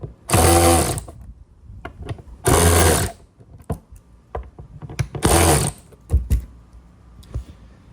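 Bolts on a Seadoo personal watercraft umbrella holder being tightened with a power driver, three loud whirring bursts separated by clicks and handling knocks, close and alone.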